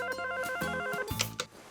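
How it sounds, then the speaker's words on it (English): A telephone bell rings in a cartoon mansion scene, a steady electronic trill over background music, clear and close for nearly two seconds. "Mr. Archie Andrews on the phone for you, Miss Lodge."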